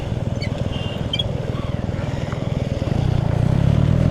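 Motorbike engines in a traffic jam on the Prithvi Highway from Pokhara to Kathmandu, a close, pulsing idle that grows louder as bikes approach, with a voice speaking briefly.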